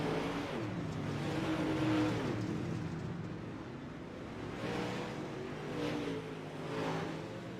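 Dirt modified race cars roaring through a heat race at an indoor nationals event, a steady dense engine drone with swelling and fading passes as the pack circles, fairly distant and continuous with no talk.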